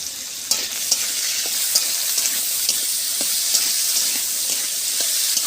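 Potatoes fry in hot oil seasoned with turmeric and salt, a steady loud close-up sizzle with occasional stirring clicks and no talking.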